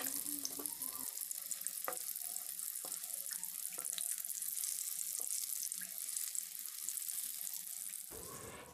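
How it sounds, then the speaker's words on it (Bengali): Balls of cabbage and egg fry gently over a low-medium flame, giving a steady soft hiss of oil with scattered faint pops and crackles, quiet and continuous throughout. "লো টু মিডিয়াম আছে এটাকে আমি ভাজতে থাকবো"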